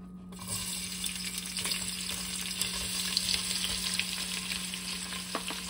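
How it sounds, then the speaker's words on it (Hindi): Finely hand-chopped onions fry in oil for a caramelized chicken korma, giving a steady close sizzle with occasional crackles and stirring scrapes. "ये दो अनियन जो हैं बिल्कुल सुनहरी हमें फ्राई करनी है"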